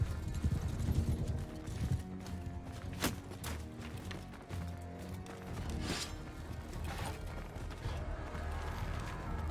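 Many horses' hooves pound steadily in a galloping clatter in the video game Mount and Blade Bannerlord, with a busy rumbling mix of game sounds underneath and no talk.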